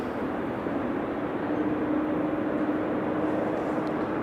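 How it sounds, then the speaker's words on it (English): A Transavia Airbus A321neo arriving at Amsterdam Schiphol on a windy, showery day, heard as a steady broadband engine roar with a faint whine, held at an even level, no talking. "Next up is the Transavia A321neo coming in."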